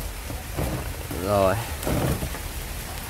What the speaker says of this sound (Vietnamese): em vừa mới kết nối xong thì trời nó lại mưa này